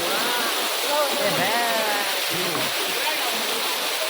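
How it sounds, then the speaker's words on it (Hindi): A waterfall on the trek to the Kedarnath Shiva temple: steady, broad rushing water fills the scene from start to finish, and people talk briefly over it. "ऊपर देख सकते हैं कैसे पानी आ रहा है और पानी की आवाज"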